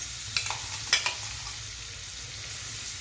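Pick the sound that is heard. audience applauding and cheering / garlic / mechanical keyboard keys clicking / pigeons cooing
garlic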